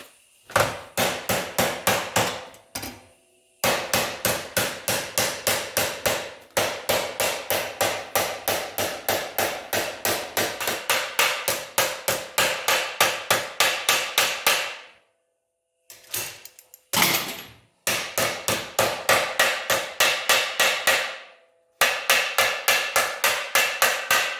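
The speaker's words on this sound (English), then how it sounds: "that there is what I'll hammer that over on top of that" Rapid, steady hammer blows ring against sheet metal as a door bottom's lip is hammered over, coming in long fast bursts separated by brief pauses, loud and close.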